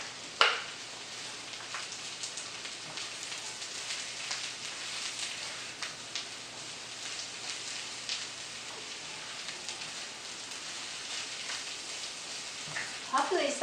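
Bitter melon dropped into a pan of light-brown garlic frying in oil, giving a steady, even sizzle throughout with a few brief clatters at the start and end.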